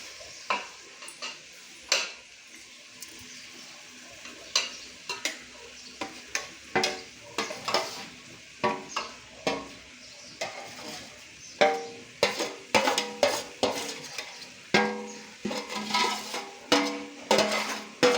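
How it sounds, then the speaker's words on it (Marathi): Chicken pieces for a home-style dum biryani stir-fried in hot oil in a pot, with a soft steady sizzle under repeated scraping and clattering strokes of a spoon against the pot, growing busier and louder toward the end. "पातेल्यामध्ये मी आता हे चिकन टाकणार आहे आणि चांगलं हलवून घेणार आहे"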